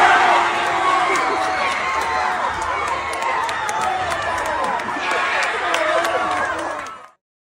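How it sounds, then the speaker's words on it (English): Movie theater audience at the Minecraft movie screaming and cheering at the top of their lungs, a dense, loud crowd roar with shrieks and chatter sustained for about seven seconds before cutting off abruptly. "audience members would film themselves saying the phrase, Chicken Jockey! Along with Jack Black before screaming and cheering at the top of their lungs"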